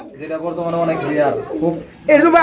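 Fancy pigeons at a sale coo softly in low, rounded bursts, heard close but largely under someone talking continuously over them.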